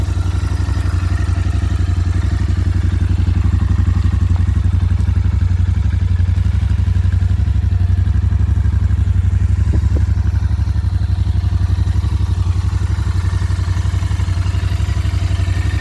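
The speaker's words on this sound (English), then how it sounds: "the stock exhausts in themselves produce an amazing soundtrack. Let me turn it on for you." A Royal Enfield Interceptor 650 BS6 motorcycle on its stock exhausts idles steadily and loudly, with a deep, even engine hum and light mechanical clatter running unchanged throughout.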